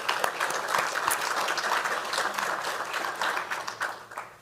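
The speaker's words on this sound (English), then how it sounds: "please join me in a round of applause really quickly for everybody" An audience at the San Gabriel Valley Economic Forecast Summit gives a round of applause, a dense, steady clatter of many clapping hands that holds evenly throughout and tapers slightly at the end.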